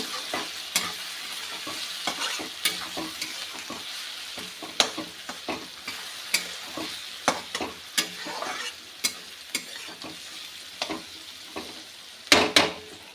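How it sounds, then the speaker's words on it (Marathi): Homemade black masala spice mix sautéing in a pan sizzles steadily while a spoon stirs and scrapes it in repeated close strokes, with no talking. "आपला घरगुती काळा मसाला अर्धा चमचा आपण टाकलेला आहे तर आता थोडासा मसाला आपण छानपैकी परतून घेऊया"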